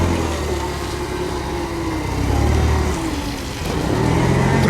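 A 2000 Cat GC25K forklift with 5,000 lb capacity and cushion tires runs with a loud, close engine drone, idling steadily with a slight rise in revs partway through, and no one speaks.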